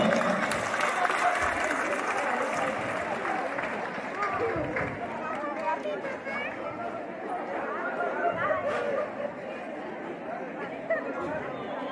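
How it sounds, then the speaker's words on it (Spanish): Audience applause at a Mother's Day festival in Cuixtla, Oaxaca, a sustained round of clapping mixed with crowd chatter and a voice speaking over it, fading slightly toward the end. "aplauso más fuerte, el aplauso"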